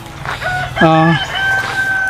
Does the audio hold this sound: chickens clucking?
yes